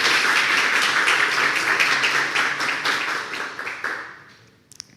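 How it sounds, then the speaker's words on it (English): Applause from a meetup audience in Prague, a dense patter of many hands clapping steadily at close range, fading out over the last second into near silence. "So please make some applause for them."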